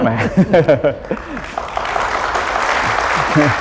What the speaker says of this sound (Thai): เสียงปรบมืออาจจะแสดงความสะใจก็ได้นะครับ